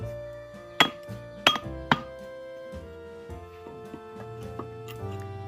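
A carpenter's chisel is struck while cutting a joint in wood, giving several sharp close knocks, three loud ones early and then lighter taps, with a faint hum underneath.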